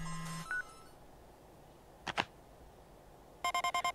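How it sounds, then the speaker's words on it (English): Game beeping of the in-pocket mail alert in Paper Mario: The Thousand-Year Door, a bright rapid string of electronic tones near the end, after a short two-note jingle and a brief swishing effect. "Mario, your pocket's beeping. Mail time!"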